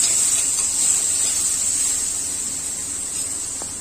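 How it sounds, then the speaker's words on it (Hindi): Kareel and tomato roast in a pan over low heat, giving a continuous soft sizzling hiss that fades slightly toward the end, with no voices. "देखिए काफी अच्छे तरीके से भुन जा रहे हैं हमारा करील और टमाटर दोनों"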